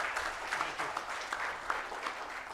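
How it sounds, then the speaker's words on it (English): An audience at a rural development forum in India claps to welcome a speaker. The dense, even applause runs throughout at a moderate, slightly distant level, with no talking. "Please welcome Mr. Vijay Mahajan with a big round of applause."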